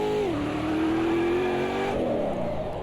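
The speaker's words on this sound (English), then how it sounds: "stick it in first gear and floor it" A 2024 stock car in the racing game Automobilista 2 accelerates hard in first gear. The engine is loud and close, with a rising roar whose pitch climbs steadily and then jumps near the end, and no talking over it.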